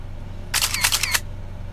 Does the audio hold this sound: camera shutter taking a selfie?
yes